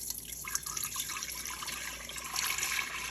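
Warm milk poured from a container into a multi-cooker while making homemade non-fat yogurt, a steady, soft liquid stream with light trickling, close by, with no talking.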